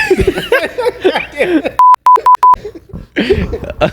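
People talk and laugh, then a series of four loud, sharp tonal beeps cuts over the speech before the talking resumes.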